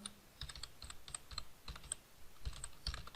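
Steady typing on a computer keyboard while coding JavaScript, with close, rapid key clicks in uneven clusters over a faint background hiss and no talk.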